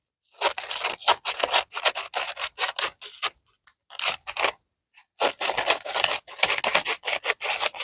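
Scissors snip through fabric for an art quilt in quick bursts of crisp cutting strokes, close and distinct, with short pauses between runs of cuts.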